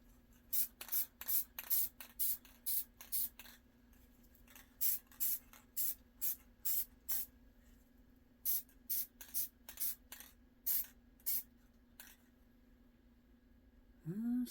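A spray can or spray gun lays a light coat of paint during a Fox-body interior restoration, heard as a rapid series of short hissing bursts in a steady rhythm, a brief pause, then another run, fairly quiet and without talk.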